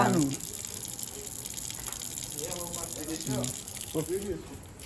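A tap runs while someone washes their face, a gushing stream of water at moderate level with voices talking over it.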